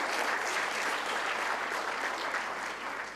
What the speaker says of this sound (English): For me, I want to clap for you people who were the best debaters in Africa.